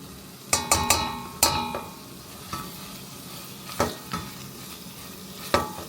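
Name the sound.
tomato and pepper paste sizzling while stirred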